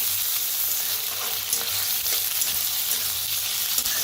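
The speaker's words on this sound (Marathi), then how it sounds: "बटाटो बी कांद्यासंग भाजून घ्यायचं" Potatoes fry together with onions in a pan for a home-style Marathi vegetable dish, giving a steady, close, hissing sizzle throughout, with faint stirring scrapes now and then.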